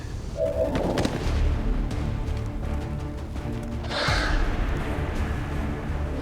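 Heavy gunfire in the video game XCOM 2 rumbles through a combat zone, a sustained low barrage with scattered sharper cracks and a brighter burst partway through, no speech over it.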